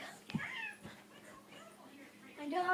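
A pet cat meows a few times during a scuffle with a dog, short wavering cries over a soft household background, with a louder drawn-out meow near the end.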